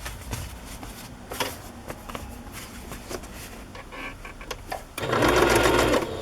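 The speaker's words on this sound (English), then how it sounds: "you probably don't want to watch me sew around the cover again, but that's what I'm going to do" Stitching around a fabric journal cover, a sewing machine works in short, uneven bursts at first, then settles into a louder, steady close hum for the last second or so.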